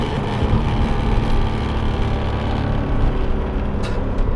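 A 1987 Porsche 928 S4 with its V8 engine downshifting, a steady loud engine roar that holds fairly even throughout, heard from inside the car with no talking.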